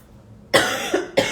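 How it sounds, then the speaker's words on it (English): A person with a lingering cough coughs twice in quick succession, sharp and close, each burst harsh and breathy, after a moment of quiet room tone. "This cough seriously never ends."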